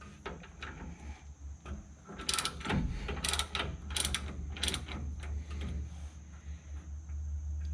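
A ratchet wrench loosening the rear brake caliper carrier bracket bolt on a Ford F150, heard as bursts of quick close clicking over a steady low hum, with a few harder cracks as the tight bolt breaks free.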